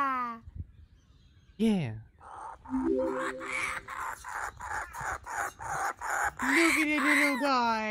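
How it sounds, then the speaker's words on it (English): A baby kookaburra gives a series of harmonic, chattering calls that rise and fall in pulsing bursts, close and clear, with a person talking over it at times. "Now we will also have a recommended video of an adorable baby kookaburra."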